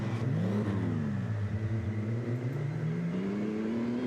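A 2-litre ERA racing car climbing the Chateau Impney hill climb, its engine note rising and falling through gear changes, then climbing steadily as it accelerates, heard from a moderate distance with no talk.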